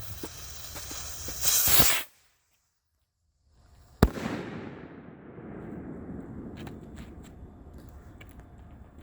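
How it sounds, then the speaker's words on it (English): Ring of Power bottle rocket firework with a loud hissing launch burst, a pause of silence, then a sharp bang followed by a long crackling, sizzling tail. "last rocket of the night, we've got the Ring of Power"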